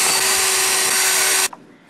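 A power drill whines steadily at high speed while boring a hole for a DIY speaker enclosure, loud and close, then cuts off abruptly with a brief click.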